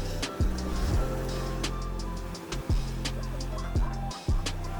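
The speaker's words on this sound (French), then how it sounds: "Les vagues nous bousculent" Ocean surf on a beach at Sassandra, Côte d'Ivoire, a loud continuous roar of breaking waves with periodic surges and crashes, close to the water, with no voices.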